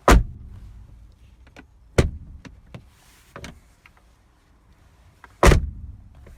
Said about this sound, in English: just open the door